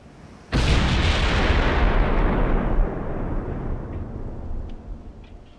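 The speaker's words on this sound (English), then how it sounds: "And we're firing at him again." Naval guns fire in Ultimate Admiral: Dreadnoughts with one sudden heavy boom that rolls on in a long, rumbling decay, loud and close, with no talk.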